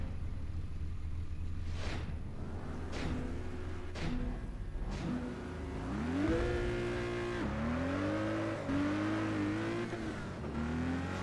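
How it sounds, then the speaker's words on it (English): An old car's engine in the racing game Test Drive Unlimited 2 revs steadily, pitch climbing and dropping through gear changes, loud and continuous with no talk over it. "Yeah, it's just old car noises."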